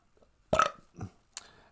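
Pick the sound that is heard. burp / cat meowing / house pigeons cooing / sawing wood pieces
burp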